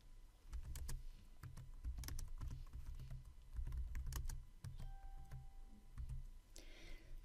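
Typing on a Chromebook keyboard, with a steady run of close, crisp key clicks in quick irregular bursts and a few brief pauses, loud against a quiet room.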